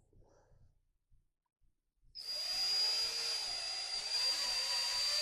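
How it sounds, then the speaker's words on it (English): A power drill boring a pilot hole into a wooden base about 6 inches wide, spinning up after a short quiet pause with a steady high whine that holds at a constant level to the end. "we're going to drill a pilot hole"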